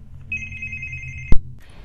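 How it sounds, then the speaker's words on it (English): A phone rings once with a steady electronic tone for about a second, then a sharp click cuts it off, heard close and alone over a faint low background hum. "Sorry guys, my phone is ringing."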